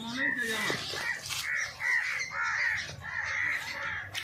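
A crow harassing an eagle caws several times in a row, harsh and fairly close, with other bird calls and faint voices in a garden background.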